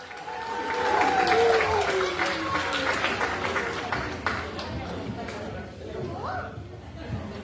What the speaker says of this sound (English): Give all the winners a round of applause